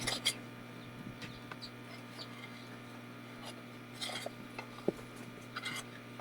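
Soft scraping and clinking of a utensil stirring a thick maja blanca coconut pudding mixture in a pot, with faint intermittent knocks against the pot over a low steady hum.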